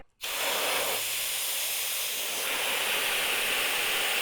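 A loud, steady hiss of compressed air rushing out of a 21-gallon Harbor Freight air compressor tank, starting abruptly and continuing strongly without pause.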